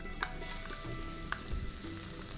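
Chopped onion frying in about two tablespoons of melted butter in a pan, a faint, soft sizzle with a couple of small clicks and stirring sounds, quiet and close, no voices.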